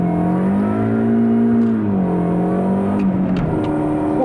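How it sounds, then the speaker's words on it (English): A 2004 Mini Cooper S R53 with a 6-speed manual and 313,000 miles, traction control off, accelerates hard with wheel spin; a loud, steady engine drone rises then dips as it shifts, heard from inside without talk. "We got a lot of wheel spin through first."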